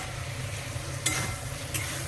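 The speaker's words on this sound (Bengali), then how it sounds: "এবার আলুগুলো দিয়ে দিচ্ছি" Fried potatoes just added to spiced oil hiss in a pan under a steady sizzle, with two brief scraping stirs of a spoon, close up and without any voices.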